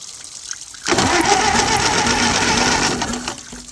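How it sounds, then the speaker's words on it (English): A Model A Ford engine turns over on a 12-volt battery, with its coil magnet-mounted on top and a hose cooling it. The loud, steady cranking churns for about two seconds without catching, then stops; nobody speaks. "Starting it with the 12-volt battery."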